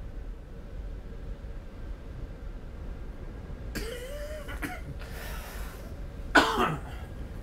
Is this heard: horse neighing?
no